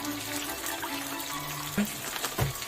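Water poured into a soy sauce mixture in a home kitchen, a soft, steady liquid splash and trickle heard close and fairly quiet, with a couple of small clinks near the end and no talking.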